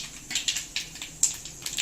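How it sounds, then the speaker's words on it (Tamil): Mustard seeds crackling and popping in hot oil in a home kitchen, a quick irregular run of small sharp pops repeating close by with no talking. "கடுகு நல்லா வெடிச்சிச்சு."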